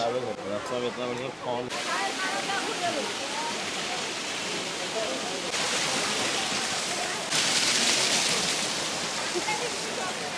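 Flowing water at the Darjeeling Rock Garden: a steady, loud rush like a waterfall or stream fills the whole clip, with a person talking over it near the start.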